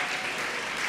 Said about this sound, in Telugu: చప్పట్లు కూడా చెప్పండి.